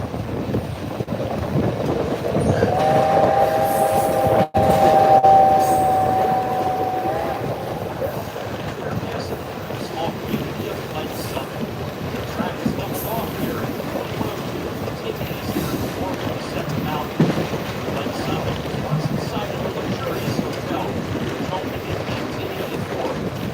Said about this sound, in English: I kind of like the sound of this whistle more than the high-pitched whistle